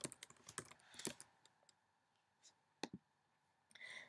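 Computer keyboard keys tapped in short bursts while typing an axis title in Microsoft Excel, quiet and close, with pauses between clusters of clicks.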